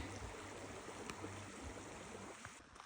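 A creek along the Pacific Crest Trail flows with a steady, soft rushing and trickling wash, fairly faint, with a few small knocks near the end and no voices.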